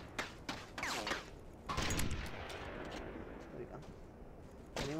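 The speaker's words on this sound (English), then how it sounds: "More people are shooting at me." Gunfire rings out in the IronStorm shooter video game, with scattered shots and short bursts cracking at moderate distance over a low, rumbling battlefield background.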